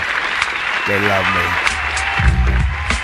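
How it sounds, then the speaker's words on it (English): Canned applause and crowd cheering sound effect from a software soundboard, a steady wash of clapping lasting a few seconds, with someone talking over it throughout. "Oh, there we go. Yay, we got the sound claps."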